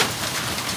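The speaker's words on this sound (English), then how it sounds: "Well, the rain has finally come." Heavy rain falling with hail during a storm, a steady dense hiss of drops hammering surfaces up close, continuous and loud over the short stretch with no voices.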